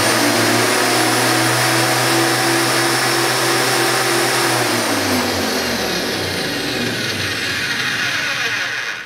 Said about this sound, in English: the Vevor has a slightly smoother sound as far as running goes